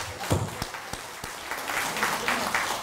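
Korean church congregation gathered for a revival meeting breaking into applause, starting with a few sharp separate claps and swelling into looser, fuller clapping toward the end.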